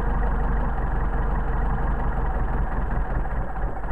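A Mercedes 190SL engine with Solex carburetors idles steadily up close, its low rumble wavering and dropping as the idle shifts during carburetor adjustment, with no voices.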